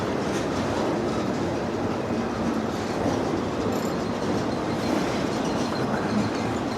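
A freight train passes at close range while railfanning in Robards, Kentucky, giving a loud, continuous rumble with wheels clacking and faint squeals throughout.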